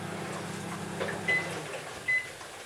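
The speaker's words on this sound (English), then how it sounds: "So our microwave has finished microwaving." A microwave oven hums steadily, then the hum fades and two short electronic beeps sound.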